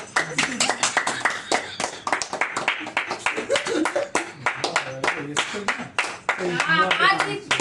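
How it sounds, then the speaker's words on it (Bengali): Family clapping hands at a birthday, rapid uneven claps close by, mixed with children's and adults' voices talking and laughing throughout. "ও হাততালি দাও না।"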